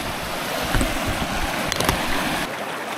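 Water rushing over gold-country falls, a steady broadband roar that fills the whole clip with no voices.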